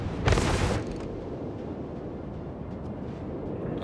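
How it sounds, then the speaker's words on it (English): Battleship guns firing in World of Warships, one loud booming blast near the start that fades into a long rumbling roar of sea and engine noise. "Oh, the Fuso is shooting at us."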